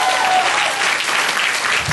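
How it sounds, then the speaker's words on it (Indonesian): A church congregation applauds together, a loud, dense wash of clapping that holds steady for the whole stretch, with no voices standing out above it. "Tepuk tangan buat Tuhan saudara."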